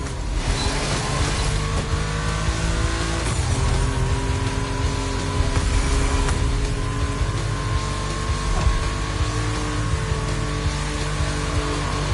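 Porsche 911 at full race pace in The Crew Motorfest, engine roaring continuously at high revs with steady tire roar underneath, loud and close, shifting pitch slightly through gear changes.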